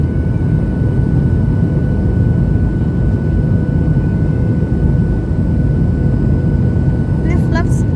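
Steady, loud roar of an airliner cabin on a Singapore to Kuala Lumpur flight as the flaps deploy on approach to KLIA, a constant engine and airflow drone with a voice speaking over it.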